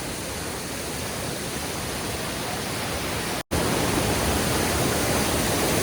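Water pours over rocks at a waterfall near Cherrapunji in a loud, unbroken roar of white-noise rush. It is very close and continuous, with only a momentary dropout partway through.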